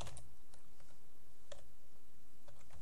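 Keystrokes on a computer keyboard while code is entered, sparse, quiet clicks arriving singly and in small clusters at an irregular pace, heard close with no speech over them.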